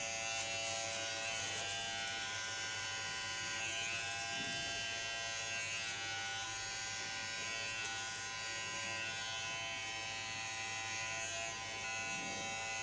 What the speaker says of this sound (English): But it's a real barber clipper.